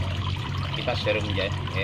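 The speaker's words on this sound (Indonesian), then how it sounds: "Jadi kita siram jenuh." Water poured steadily onto a calathea in a pot until the soil is saturated, a continuous close pour with small gurgles, with talk over it.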